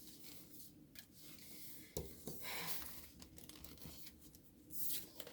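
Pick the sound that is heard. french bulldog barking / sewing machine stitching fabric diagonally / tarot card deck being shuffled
tarot card deck being shuffled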